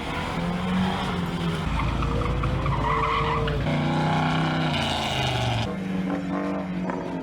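Race cars run a heat on the track, engines roaring and shifting pitch as they pass close by, with tire squeal and skidding, one car dropping off near the end as another revs on; no talking.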